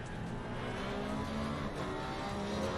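Porsche race car engine at Zandvoort in the ACC sim racing game, a loud sustained high-pitched engine roar holding steady at speed throughout, with no talk.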